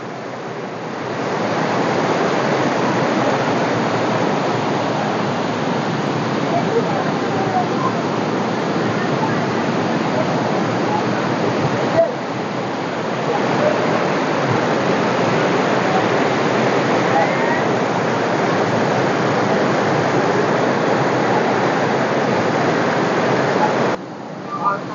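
Siddharkund waterfall at Kollengode roars with a loud, steady rush of falling water, close by and continuous, with only a brief dip partway through.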